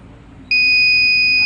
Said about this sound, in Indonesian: ketika ada terdeteksi api, maka di LCD itu akan ada indikator kebakaran yang tampil, lalu di buzzer itu akan berbunyi